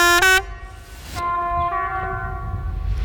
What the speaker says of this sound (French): On passe au klaxon interdit.